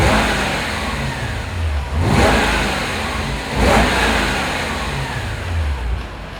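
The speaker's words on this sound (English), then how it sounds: "I'm gonna rev it for you real quick so you can hear it" A 2005 Jaguar XKR convertible engine idles with a rough rumble, then revs twice in quick, loud blips before settling back, heard close up.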